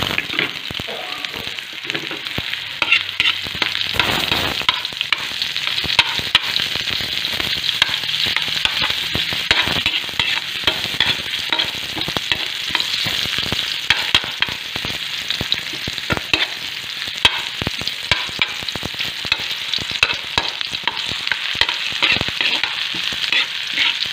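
Ginger, garlic and onion sizzle and fry in a pan at a jungle camp, with a steady crackling hiss and occasional stirring scrapes throughout, close and fairly loud with no talk.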